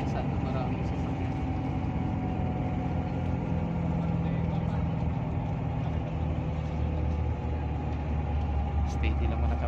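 Steady traffic of many vehicles by the cemetery in San Fernando City, a continuous engine rumble and road noise with idling motors, heard close and constant throughout.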